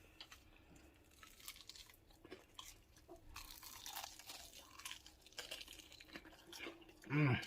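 Close-up crunchy biting and chewing on a crispy fried Chinese-style chicken wing, crisp crackles repeating irregularly at low volume, ending with a brief louder voice.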